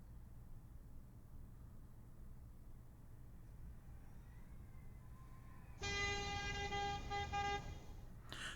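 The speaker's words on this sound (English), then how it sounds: "The deafening sound of the car horn shakes me from my dream." A car horn gives one sustained, loud blast of about two seconds that cuts in over a faint, quiet background and then stops abruptly, with a short burst at the very end.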